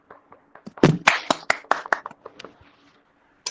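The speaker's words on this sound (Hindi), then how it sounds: "उसके लिए हम सब लोग एक बार ताली बजा दें प्लीज" A few people at an industry-institute interaction session clap in scattered, uneven bursts of separate hand claps, loudest around the middle and then thinning out to near silence.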